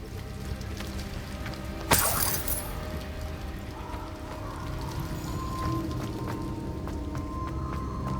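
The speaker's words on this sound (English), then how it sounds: "The waterfall." Waterfall ambience in the Hogwarts Legacy video game, a steady broadband rush of falling water throughout with a brief louder splash near two seconds, no speech.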